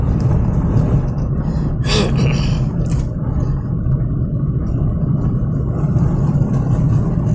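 A car's engine drones steadily while it is driven through traffic with manual gear upshifting, a continuous low rumble with a brief rise in noise partway through and no voices.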